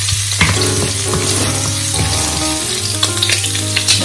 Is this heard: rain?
no